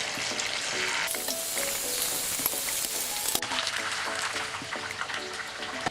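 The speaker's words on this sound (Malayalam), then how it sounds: "സെക്കൻഡ് ട്രിപ്പും അതേപോലെ നമുക്ക് ഫ്രൈ ചെയ്തെടുക്കാം" A second batch of chicken frying in hot oil makes a loud, continuous sizzle that swells sharply for a couple of seconds before settling back, with occasional light clinks of utensils, close up and with no talk.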